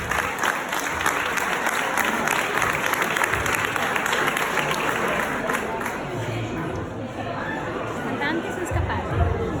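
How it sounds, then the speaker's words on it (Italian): An audience at a firefighters' charity gala in Venice claps steadily for an evening performer. The applause is dense and continuous, with murmured chatter among the crowd. "Facciamo un applauso di incoraggiamento."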